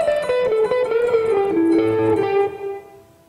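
An electric guitar plays a short blues solo, a clean run of single notes stepping downward with bends before the last note fades out.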